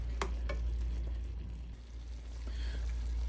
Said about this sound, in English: All you gotta do is just let the glaze cook down